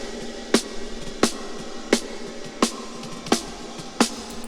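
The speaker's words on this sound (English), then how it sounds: "Snare side." Snare drum recorded from a side microphone, six evenly spaced sharp hits about two-thirds of a second apart over a soft background hiss.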